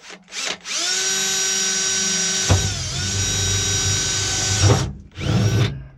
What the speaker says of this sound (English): I'm going to use the drill now and try and tap these holes